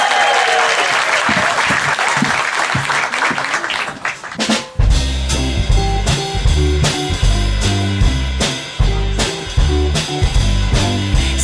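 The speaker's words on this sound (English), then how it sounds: "Give her a big round of applause." A live audience at a Christmas special show claps loudly to welcome a singer. The dense applause lasts about four seconds, then a rhythmic band intro takes over.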